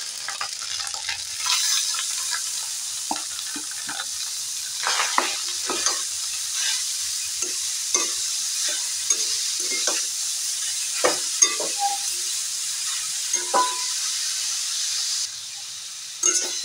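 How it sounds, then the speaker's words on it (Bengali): Grated carrot and beetroot fry in a pan with ginger paste, a steady sizzle running throughout, broken by repeated scraping stirs of a spoon against the pan. "গাজর বিটটাকে ভালো করে নাড়াচাড়া করে নেব"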